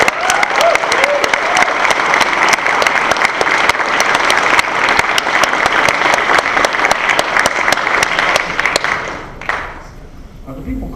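Audience at a university forum event breaks into loud, sustained applause, dense clapping filling the room for about nine seconds before thinning out at the end.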